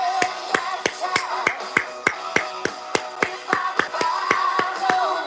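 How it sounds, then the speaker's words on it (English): Repeated hand claps, about twenty sharp evenly spaced strikes, ring out at a steady rhythm over a faint murmur of background voices, close and moderately loud. "When we see a winner and a victor in action, we give them the clap."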